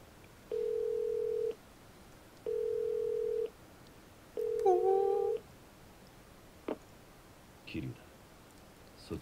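Payphone in the video game Yakuza 0: two flat, evenly spaced telephone tones, a warbling ring-like tone, then a few short clicks and clunks of the handset.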